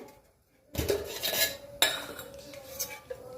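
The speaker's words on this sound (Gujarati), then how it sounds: "મેં ગેસ ચાલુ કરી દીધો છે ને કઢાઈ મેં મૂકી દીધી છે" A metal kadai (wok) is set down on a gas stove, giving a sharp clank followed by a second loud metallic knock and lighter rattling of pan and utensils nearby.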